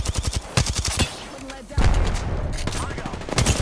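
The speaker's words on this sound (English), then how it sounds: "Shooting Bloodhound" Gunfire in the Apex Legends video game, with rapid bursts of loud automatic shots, heavier booming blasts and busy battle noise, while players talk over the shooting.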